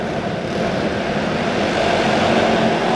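Loud racing boat engines roar together at the start of a stock appearing heat race, a dense, steady, close and unmuffled drone filling the whole moment with no talk.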